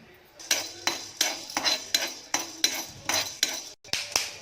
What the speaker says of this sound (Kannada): ಸೊ ಕಾಳು ಮೆಣಸು ಹಾಕ್ತಾಯಿದೆ, ಇದು ಕೂಡ ಸ್ವಲ್ಪ ಫ್ರೈ ಮಾಡ್ಕೊಳ್ಳೋಣ.